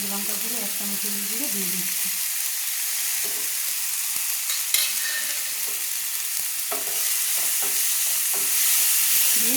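Chilli and turmeric powder fried for an aloo potol dish, stirred in a pan, a loud steady sizzle with scraping stirs and occasional clinks, rising toward the end.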